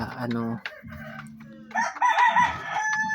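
Small hens on a farm clucking nearby, a run of short throaty clucks followed by a louder, busier stretch of overlapping calls.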